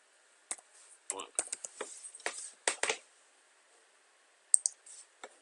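Quick bursts of keyboard keystrokes click as text is typed into a template editor on a computer. The taps come in an uneven rhythm, then stop for a quiet pause before a few final keystrokes, with a person talking.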